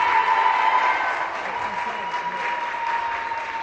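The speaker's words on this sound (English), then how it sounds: "Let's give another round of applause for Sydney" A crowd at a women's basketball game applauds for Sydney, steady sustained clapping from many hands that fills the arena at an even level with faint voices underneath.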